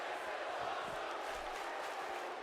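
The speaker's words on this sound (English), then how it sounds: "Crowd chanting, this is awesome." A wrestling video game crowd roars in a steady, broad wash of noise with faint shouts rising from it, filling the whole stretch without a break.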